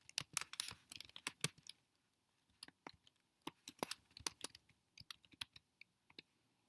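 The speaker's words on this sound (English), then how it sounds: "just type in the email addresses" Email addresses being typed on a computer keyboard: quick irregular clusters of light key clicks with brief pauses between bursts, close and fairly quiet, no talk.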